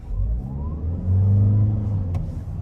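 Toyota Corolla Cross XRX hybrid pulls away from a traffic light, a low engine rumble rising steadily in pitch as it accelerates, heard from inside the cabin with a steady road hum.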